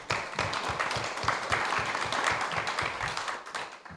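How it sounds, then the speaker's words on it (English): An audience applauds students in a community classroom, a dense, even patter of many hands clapping at moderate volume that holds steady and thins slightly at the end. "So let's give them another round of applause."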